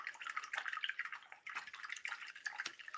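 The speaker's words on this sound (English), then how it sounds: "Go ahead and rinse your brush." A paintbrush is swished and rinsed in water, giving close, steady splashing and dripping sounds with small gurgles throughout and no talking.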